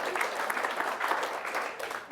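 Audience applause at an insurance industry panel event on stakeholder engagement and delivery risk, welcoming a panel speaker; dense, continuous clapping from a sizeable crowd, steady and fairly loud throughout.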